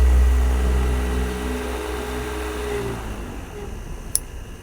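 A steady motor hum and whir of an electric fan running at its highest speed on 12-volt DC, loud at first then easing slightly, ending with a brief click.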